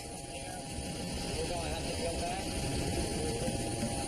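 Helicopter flying during a surveillance pursuit, a steady broadband engine and rotor drone that stays fairly loud and constant throughout, with faint tonal whines over it.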